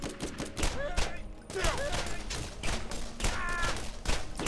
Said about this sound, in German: Da reichen jetzt schon zwei normale Schüsse.